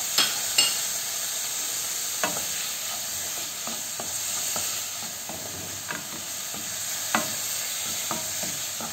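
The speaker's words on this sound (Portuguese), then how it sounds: "Refogando aqui." Chopped tomato and bell pepper sautéing in a pan for a coconut-sauce greens dish, a steady close sizzle with frequent sharp spatula taps and scrapes scattered throughout.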